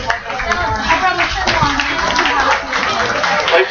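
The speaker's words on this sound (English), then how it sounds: "Let's give our production cow a nice round of applause, please." Clapping from the audience at a Wisconsin championship dairy cow show for a production cow, a moderate, continuous patter of hands in an indoor arena, with voices mixed in.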